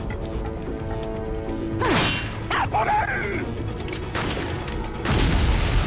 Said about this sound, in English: Billy, you weren't affected by that explosion?